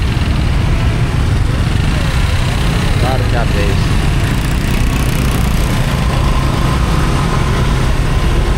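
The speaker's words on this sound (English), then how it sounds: "traffic's a little congested" Congested street traffic with idling and running engines fills the scene as a loud, steady rumble, with someone talking over it.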